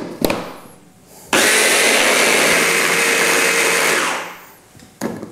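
A kitchen blender whirs loudly and steadily for about three seconds, puréeing a mint, basil and lemon sauce with olive oil, then spins down, with brief handling knocks before and after.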